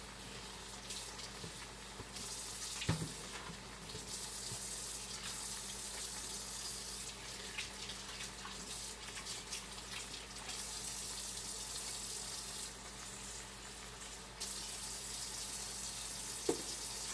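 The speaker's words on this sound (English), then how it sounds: "And we're going to add some water." Water pours steadily into a pot of chicken and vegetables while curry chicken is cooked, a continuous close splashing gush that runs alone for most of the stretch.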